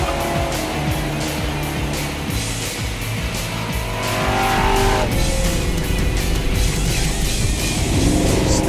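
A Pontiac muscle car is driven hard in a race: a loud engine roars steadily throughout while the tires squeal and skid, and the noise swells as it pushes on.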